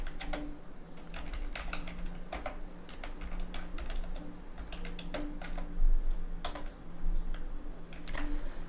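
A bash command is typed on a computer keyboard in a steady stream of close, rapid key clicks over a faint background hum, no voices.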